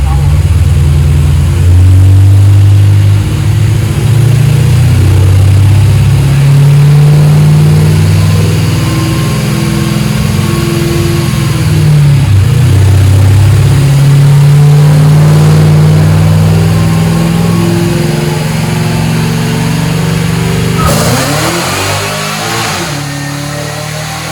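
A Stage 3 Roush Mustang roars on a chassis dyno, its engine holding a loud, sustained drone with rising and falling pitch through the run before it lets off near the end. Voices can be heard faintly over the engine.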